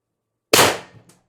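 A single sharp crack from an IntruBuster Gen 2 air gun with a 12-inch barrel firing 10 gram ammo breaks the silence, then fades quickly with a faint rattle.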